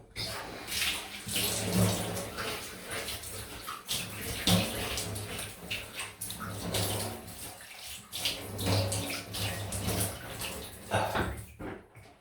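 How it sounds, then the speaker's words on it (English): Cold water runs steadily from a tap to rinse Lothur Namkha shaving soap off after a shave with a Focus Tritok Concave R52 safety razor, a continuous close splashing wash with small shifts in flow. "Going down to the cold to rinse off."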